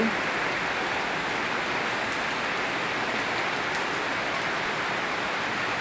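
Steady rain pours down in a dense, even hiss with no pauses, close and loud throughout, no voices.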